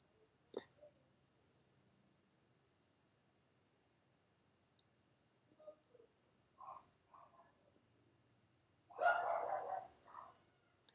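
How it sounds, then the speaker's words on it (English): Household dogs barking indoors, a few scattered short yips and woofs at a distance, then a louder burst of barking near the end against an otherwise quiet room. "So don't mind my barking dogs."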